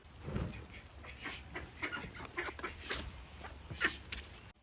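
Pet ducks quacking outdoors, a string of short nasal calls scattered over several seconds, moderately near against a low background rumble.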